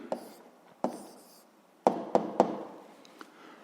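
An answer written down by hand during a seventh-grade physics exercise: a handful of sharp, close taps and short scratchy strokes spaced irregularly over quiet, with no talking.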